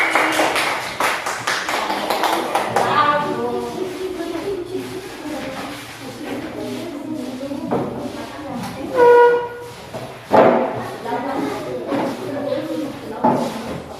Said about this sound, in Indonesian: Tepuk tangan sekali lagi.